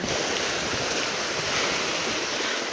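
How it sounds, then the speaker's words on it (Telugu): Sea waves surge and crash against beach rocks in a steady, loud, continuous roar, with wind buffeting the microphone throughout and no voices. "అలలు అలా వచ్చి ఈ రాళ్ళని తాకినప్పుడు అలా ఎగిరినప్పుడు ఆ దృశ్యం బాగుంటుంది"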